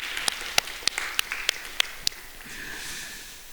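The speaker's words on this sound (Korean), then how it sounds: "우리 리더들을 향해서 박수 한번 보내겠습니다" A church youth congregation at a Sunday worship service claps for its leaders: a handful of sharp, spaced claps ringing out in a reverberant hall, fading into soft room noise.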